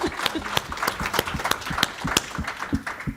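Scattered applause from a small audience, distinct individual claps in an uneven rhythm, moderately close and fairly quiet, with little talk underneath.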